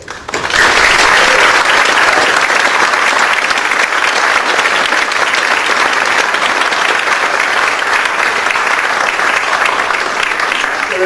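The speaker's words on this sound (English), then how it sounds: "Let's have a round of applause for Arshia." A seated audience gives a long round of applause at a public lecture to honour a young award winner. The dense, even clapping is loud and sustained for about ten seconds with no speech over it.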